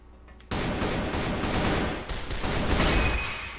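Rapid bursts of automatic gunfire in the online shooter CrossFire AL 2.0 during bot-mode practice, loud and continuous fusillade with brief dips, no talking over it.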